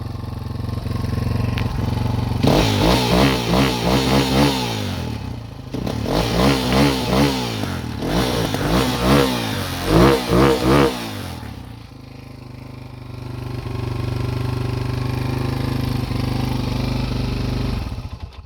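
A Kovi Lite motorcycle's 172FMM engine, recently fitted with new piston rings and being broken in, revs hard in three loud bursts over a steady idle, then settles back to a close, even idle.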